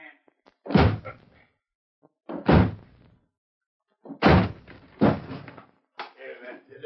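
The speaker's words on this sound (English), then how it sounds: "All right, then we'll smash the door." Two men force a door in a 1947 Lone Ranger radio drama set in a mine. Several heavy, hollow thuds and bangs land in uneven bursts, loud and close.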